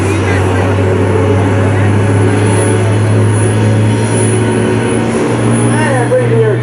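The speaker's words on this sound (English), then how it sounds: "Now watch, as he takes the aircraft up to the top" A turbine aircraft performs a loop with a snap at the top during a 2019 Dover AFB open house airshow, its steady loud engine roar sustained throughout, with a public-address voice talking over it.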